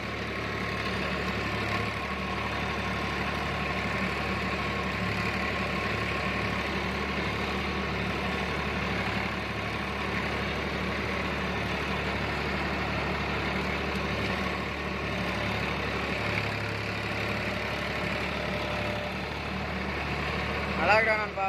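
A Massey Ferguson 245 DI tractor engine runs with a steady, continuous low drone, while people talk over it throughout.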